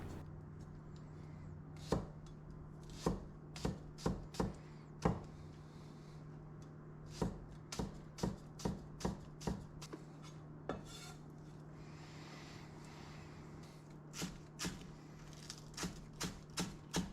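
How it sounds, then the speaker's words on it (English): A knife chopping green onion on a board for Chinese lamb noodles, with irregular clusters of sharp, close taps separated by pauses over a faint steady hum. "So first I start by cutting the green onion and I separate the whites from the green"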